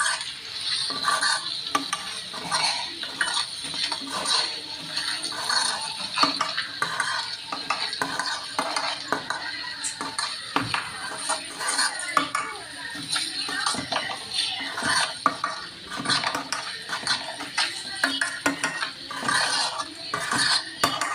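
Okra and peanuts frying in a pan, with a spatula scraping and clinking steadily against the metal over a constant hiss of oil, close and continuous for the whole stretch.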